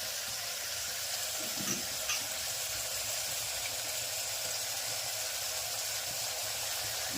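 Spices crackle and sizzle in hot oil as a vaghar (tempering) is made for kantola (spiny gourd) sabzi, a steady broadband hiss running throughout with a couple of faint pops, close and moderately loud, with no talking.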